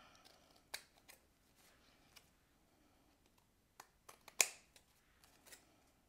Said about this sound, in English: We're gonna bring in our scissors and we're just cutting this part off.